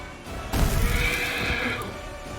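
A horse neighs loudly and close in the Pathfinder: Wrath of the Righteous video game, one drawn-out whinny lasting about a second and a half over a low rumbling game background.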